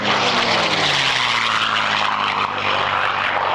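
A P-51 Mustang fighter with a Packard-built Merlin engine roars past at an airshow, a loud continuous propeller drone with a slowly falling pitch as it passes.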